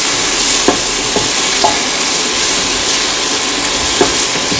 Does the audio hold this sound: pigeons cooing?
no